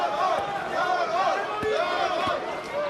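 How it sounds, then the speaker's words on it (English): Croatian fans in a packed arena cheer for Mirko Cro Cop at a PRIDE Final Conflict 2005 heavyweight bout, a steady distant crowd roar with rising chants and scattered shouts throughout. "cheering on Mirko Krokop while other fans are cheering on the champion"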